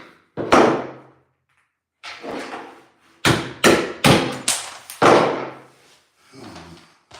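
A hammer taps and knocks on an electrical box while troubleshooting a GFCI plug for a Kobalt table saw: a string of sharp, close knocks, some single, then a quick burst of four or five blows, with short gaps between.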